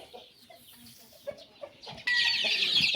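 Ornamental chickens and larger chicks cluck in short, scattered calls at close range, then a dense, loud hiss of noise takes over for the last second.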